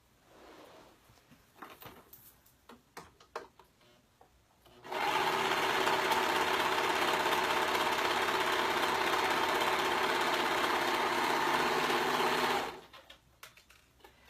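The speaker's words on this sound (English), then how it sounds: "the short side we're going to go ahead and serge the edges" An overlocker serges the short edges of a skirt, giving a loud, fast, steady mechanical whir for about eight seconds, with quieter fabric handling and clicks before and after.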